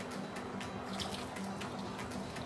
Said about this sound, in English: I have added water to the tamarind paste. I am going to add it now.